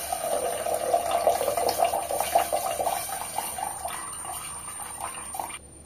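Liquid pours steadily into a vessel as fresh palm sap (padhaneer) is pulled out of it, a continuous close splashing trickle that runs for several seconds and then cuts off.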